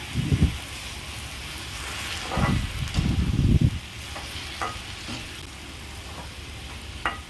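Chopped tomatoes and onions, salted, sauté in a pan for tomato thokku, a steady low sizzle broken by a few louder bursts of spoon scraping and stirring, close and with no talk.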